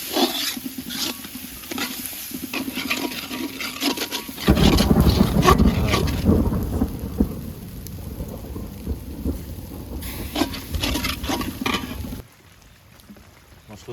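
Spice paste with turmeric, garam masala and ground spices frying in a pan for a Bengali bata fish curry, giving a loud, steady sizzle for several seconds that eases off before stopping.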